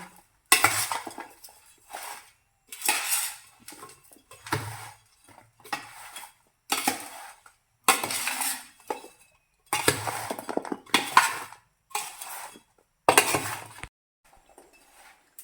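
A spoon clinks and scrapes against a metal pot while mango pickle is stirred with spices and mustard dal, in repeated short bursts of mixing separated by brief pauses.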